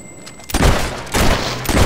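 A player's gun in the action role-playing game Fable 3 fires in two loud, close bursts of shots, each a sharp blast followed by a ringing tail, after a quieter stretch of ambient game sound.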